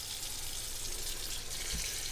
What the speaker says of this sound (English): we're going to run some water into it